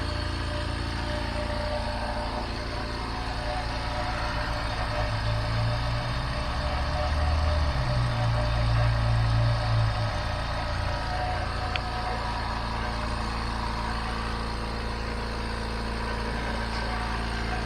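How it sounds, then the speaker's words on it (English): A Quip All ultra quiet air compressor runs with a low, steady hum and a slight rise in rumble midway, fairly soft and continuous with no one talking over it. "if you have the compressor on and if you need to talk to someone, they can easily hear you well"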